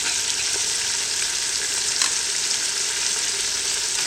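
Drumstick pieces, along with potato, simmer in a pot of sambar, giving a steady, close crackling sizzle with faint stirring clicks throughout, no talking.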